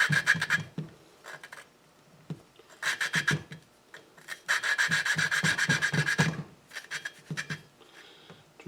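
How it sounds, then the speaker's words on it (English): An engine valve is lapped into its seat with grinding compound, giving a rhythmic rasping scrub in back-and-forth bursts, close and fairly quiet, with pauses between strokes. "Just a little bit of down pressure as you're grinding it."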